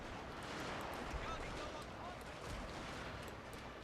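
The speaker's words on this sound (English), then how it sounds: "my troops, which are literally firing on the enemy" Massed gunfire from troops in Total War Shogun 2: Fall of the Samurai, a dense, steady crackling fusillade with a constant roar of battle underneath and no clear breaks across the few seconds.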